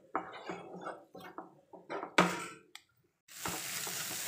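Egg stirred in a pan over low heat for an egg fry dosa, several soft scraping strokes followed by a brief clatter and then a faint steady sizzle.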